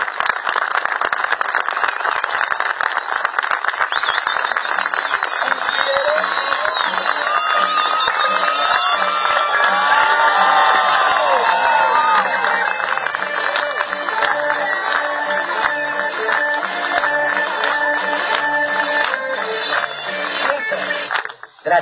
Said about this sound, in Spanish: Demostrame con un aplauso cuánto vale todo el tiempo que te hago reír en esta plaza